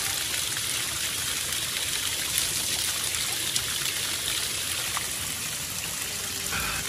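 Spring water trickling steadily at El Colomo in Huejuquilla el Alto, Jalisco, a close, continuous watery wash with no voices.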